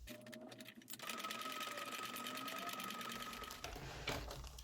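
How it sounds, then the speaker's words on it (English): A sewing machine stitches a strip of Velcro onto a fabric reusable snack bag, running in a steady, continuous whir close by after a brief start, with no talking. "Okay, so let's get stitching."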